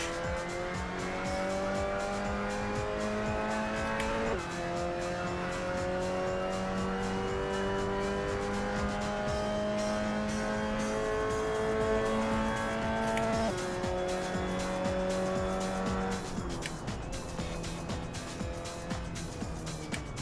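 Mazda MX-5 Cup race car at Silverstone in a VR racing game, its engine droning steadily and loudly through gear changes, with pitch dropping at each shift and a tire squeal now and then.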